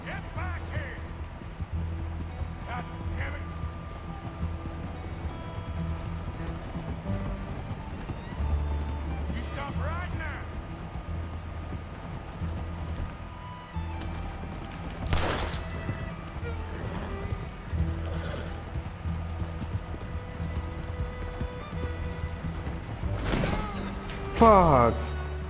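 Horse hooves clip-clop with an occasional whinny in the open-world Western game Red Dead Redemption 2, steady and fairly close over a continuous game soundtrack, with someone talking over it.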